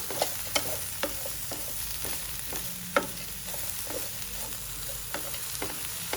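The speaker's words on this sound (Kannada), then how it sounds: "ಒಂದೆರಡು ಸ್ಪೂನ್ ಎಣ್ಣೆ ಹಾಕಿ ಕಟ್ ಮಾಡಿರೋಂಥ ಆಗಲಕಾಯಿನೆಲ್ಲ ಉರ್ಕೊಳ್ತಾ ಇದ್ದೀನಿ" Cut bitter gourd fries in a couple of spoons of oil with a steady sizzle, while a spoon stirs and scrapes the pan in regular taps, close and moderately loud, with no talk.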